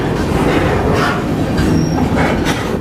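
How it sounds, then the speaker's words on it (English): Freight train rolling along the tracks while riding aboard, a loud close rumble with rhythmic clacking and occasional metallic squeals from the wheels, no talking. "The train has just been going at this speed."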